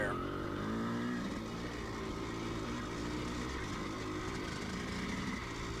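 Dirt motorcycle riding down a washed-out road, its engine droning steadily with a rough, even buzz while a rider talks over it.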